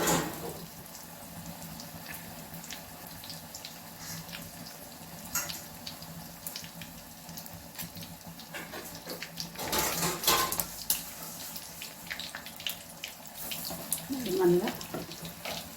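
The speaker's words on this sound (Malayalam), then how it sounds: "മുക്കിയിട്ട് ഈ എണ്ണയിലേക്ക് ഇങ്ങനെ ഇടാം" Chilli bajji dipped in batter and dropped into hot oil, with a steady soft sizzle and hiss of frying beneath occasional utensil clinks and louder bursts, close and fairly quiet, with no talk.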